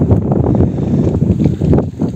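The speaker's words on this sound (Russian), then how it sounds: "Ну, ветрило какое." Strong wind buffets the microphone at a lakeshore during fishing, with reeds burning nearby; a continuous loud roar with gusty swells and low rumble fills the whole stretch.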